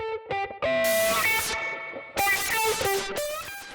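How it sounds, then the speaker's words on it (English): An electric guitar played through the Rob Papen RP-Distort plugin's Fuzz mode, a fuzzbox-style overdriven transistor distortion, giving loud buzzy sustained notes and chords in two phrases separated by a brief break. "We'll select Fuzz, which applies a fuzzbox style overdriven transistor distortion"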